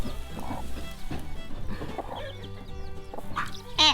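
Chickens in a chicken tractor cluck and murmur close by in a busy, continuous stream, with a sharper squawk near the end.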